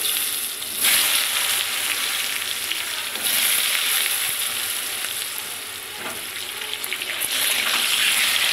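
Cumin seeds and bay leaves sizzle loudly in hot oil in a home kitchen while fish curry is being cooked. The sharp, hissing crackle is steady and close, with brief stirring surges and no talking.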